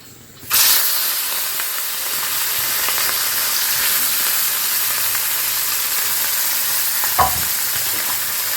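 Small mourala fish hit hot mustard oil in a nonstick pan with a sudden loud burst of sizzling, then a steady, close, hissing fry continues throughout, with a brief clatter near the end.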